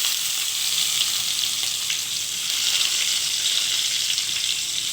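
Whole garam masala and a bay leaf sizzling in hot oil while a prawn curry is being made, a steady, close, continuous hiss with no pauses.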